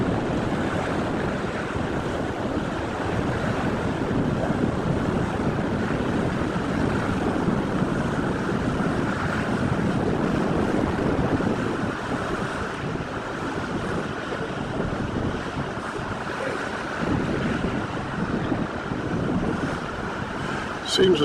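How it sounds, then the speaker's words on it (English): Strong wind roars without a break beside a river with barges, buffeting the microphone with a low, rumbling rush. It stays loud and even the whole way through. "it's also windy out"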